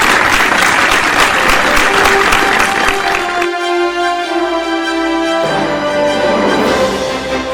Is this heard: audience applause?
yes